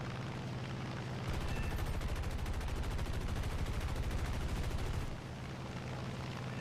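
A long, dense burst of aircraft machine gun and cannon fire rattles without pause for about four seconds in the War Thunder flight game, fired from an F6F Hellcat fighter closing on an enemy plane.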